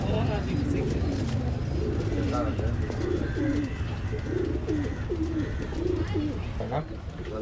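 An old line pigeon coos repeatedly in soft, rounded bursts, close by, beneath a steady murmur of people talking in a busy background.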